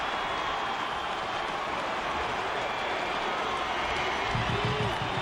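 A college football stadium crowd roars in a sustained, loud wash of noise after a missed 32-yard field goal attempt in a tied West Virginia versus Syracuse game, with no clear break and faint low rumble underneath.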